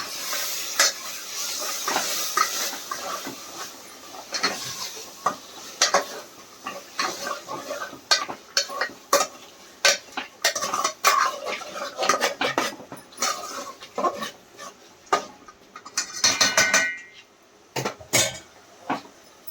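Mutton curry being stirred in a pot, with many close, irregular scrapes and clinks of a spoon against metal over a faint sizzle, the stirring coming in quick bursts.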